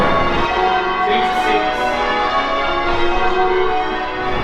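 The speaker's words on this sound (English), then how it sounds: "the sound of the bells ringing out over the city" Church bells peal out over a city on Christmas Day, rung by hand with one ringer per rope, a dense, loud wash of overlapping ringing tones that sustains without pause.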